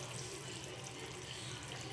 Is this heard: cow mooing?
no